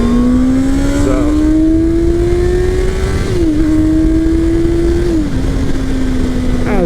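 2020 Honda CBR650R motorcycle engine while riding, a loud, close, droning inline-four hum that climbs steadily through the gears, dipping briefly at two shifts, with rushing wind noise over it.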